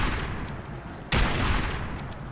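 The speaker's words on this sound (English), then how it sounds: "Next is the 50 cal pistol, which is modified to shoot 50 cals and as such does high damage and sounds a lot cooler" Modified .50 cal pistol firing in Fallout 4, a loud close gunshot burst with a sharp onset that rings out under steady background noise.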